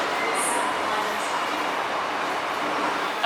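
A Hong Kong MTR metro train in motion, a loud steady rushing roar of the carriage with continuous broadband noise and a faint high squeal early on.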